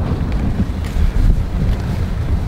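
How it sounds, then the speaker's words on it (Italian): Strong wind buffets the microphone at Nordradalur in the Faroe Islands, a loud, steady low rumble with gusty surges and no voices. "ha riservato al povero John l'ennesima scarica mortale di vento."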